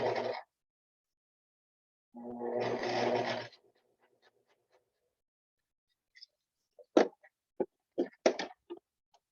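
A sewing machine stitching a seam in yellow thread, two short bursts of motor whir separated by silence, followed by a series of faint scattered clicks and taps; close and quiet overall.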